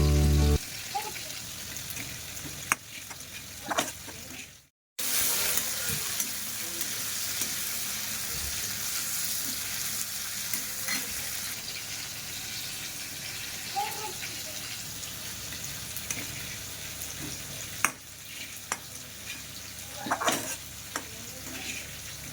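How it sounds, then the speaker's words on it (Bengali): Chopped vegetables for a fish-head mixed vegetable dish sizzle and spit as they fry in oil, a steady close frying hiss with occasional stirring scrapes that drops out briefly once before carrying on. "এবার এগুলোকে সব একে একে ভেজে নেব।"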